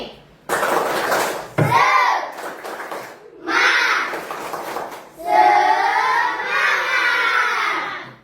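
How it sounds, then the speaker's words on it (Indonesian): A crowd of children in a classroom shouts and cheers loudly in bursts, with some clapping mixed into the noisy, energetic group chatter. "Tepuk semangatnya, tepuk satu kali lagi."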